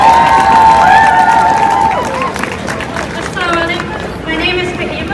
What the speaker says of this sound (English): So everybody, round of applause for Fahim